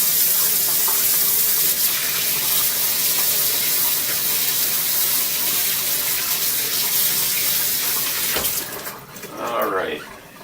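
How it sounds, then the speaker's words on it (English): Water from a tap runs steadily into a kitchen sink while hands that handled fish are rinsed, a loud broad splashing that cuts off near the end, followed by a brief squeak and handling noise. "Gonna rinse my hands off again since I've been handling the fish."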